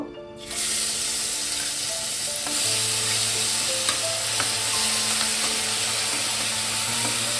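Onion and green chilli paste frying in hot oil for a prawn dish: a loud, steady sizzle that jumps as the paste hits the pan, with a few light stirring clicks and no talking.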